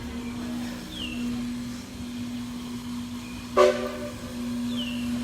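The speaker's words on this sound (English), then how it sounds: "It wasn't me, that was a train." Steam train passing in the distance, heard from indoors at a hotel in Maryborough: a long, steady whistle tone holds for several seconds, broken by a brief louder burst midway, over a quiet room background.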